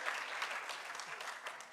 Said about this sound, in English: Can you clap for him again?